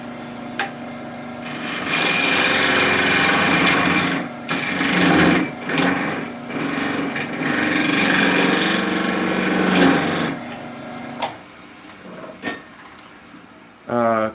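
A wood lathe spins a yew bowl blank, giving a loud steady motor hum with tool scraping that cuts out briefly several times before stopping near the end.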